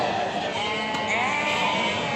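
Beyləqan breed lambs bleat continuously at a busy sheep market, a dense overlapping chorus of high calls held steady and fairly loud throughout, with no clear speech.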